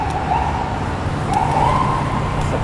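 An emergency siren, from a police car or ambulance, wails behind cyclists riding through Times Square in New York, loud and close in rising sweeps over street noise.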